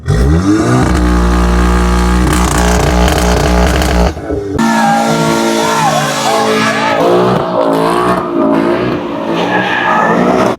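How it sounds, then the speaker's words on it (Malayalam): A car with a Toyota 2JZ-GE engine revs hard at a car meet in Canada, a loud sustained engine roar that climbs and falls through several throttle blips, with tire squeal and other engine noise around it. "അപ്പൊ ഇതാണ് നമ്മുടെ 2JC GE എഞ്ചിൻ വരുന്നത്."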